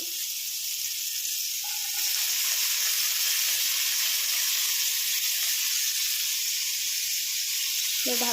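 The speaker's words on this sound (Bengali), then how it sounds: "গাজর দিয়ে দেবো বরবটি" Carrots and green beans fry in a pan, giving a loud, continuous close sizzle that runs throughout, with a brief clink near the end.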